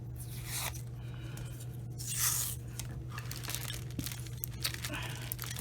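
Adhesive tape pulled and torn from a roll while wrapping wax paper around a damaged glue book: crackling, ripping bursts over a steady low hum, close and fairly quiet, with no talking.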